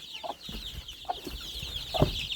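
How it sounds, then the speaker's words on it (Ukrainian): Roosters in a yard give a few soft, scattered clucks, fairly faint and close, with short gaps of quiet between the calls. "Вон там півники."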